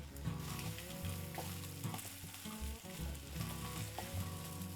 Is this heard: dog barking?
no